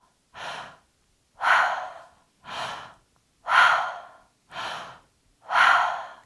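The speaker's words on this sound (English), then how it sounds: "So inhale and exhale through your mouth, no break." Someone breathes deeply in and out through the mouth in six loud, close, airy breaths, each a separate swell with a short silence between, paced at an even rhythm.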